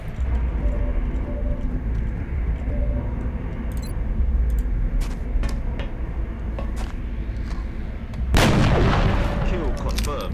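Gunfire from mechs and a long rifle in the XCOM Long War game sounds as scattered sharp cracks, followed near the end by a loud, heavy blast that rings on over a low rumbling backdrop.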